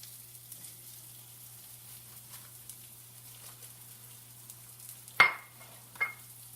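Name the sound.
red onions and mushrooms sizzling in a pan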